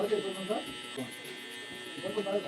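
Saver 2.0 electric hair clipper with a 1-inch guide buzzing steadily during a flat-top haircut, a constant high hum close to the microphone while someone talks over it.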